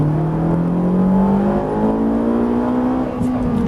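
A Ferrari 458 at full throttle on the Haut Saintonge race circuit, its engine note climbing steadily and loud from close inside the car, with a brief dip near the end.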